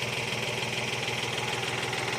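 A 22 HP small tractor used for earthing up sugarcane runs with a steady, close mechanical rumble and a rapid, even knocking pulse that continues throughout.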